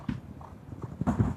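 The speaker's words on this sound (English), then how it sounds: "Horse at the back there with the white faces, of course, called Meatloaf" Racehorses working over jumps during a racing-yard practice session, hooves thudding in short irregular beats, fairly close and moderately loud, with no talk over them.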